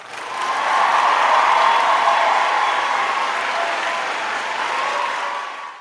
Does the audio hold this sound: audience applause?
yes